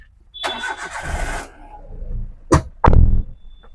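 A 2017 Maruti Alto 800 LXi engine cranks and catches with a loud close burst, then settles briefly before a second sharp start-up roar near the end.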